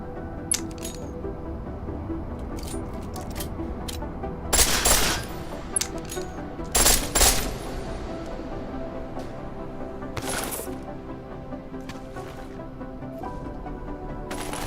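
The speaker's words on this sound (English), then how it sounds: "The pistol in full auto will take down targets fast, but it'll burn through your ammo." A pistol fires in full auto in the video game Deus Ex: Mankind Divided, with several short, sharp bursts of rapid shots standing out over a steady low in-game ambience, interspersed with faint clicks.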